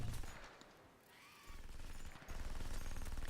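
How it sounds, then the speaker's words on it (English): Minigun and twin machine-pistol fire rattle in a Heroes of the Storm match at a LAN tournament: dense, rapid, faint bursts of gunfire that keep going throughout. "Minigun versus, well, two machine pistols."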